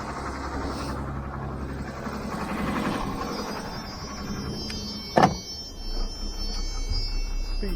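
Air suspension raises a DAF 18-tonne tilt-and-slide recovery truck: a mechanical whirr and hum runs for several seconds, then a sharp burst of air, and a low rumble continues afterwards.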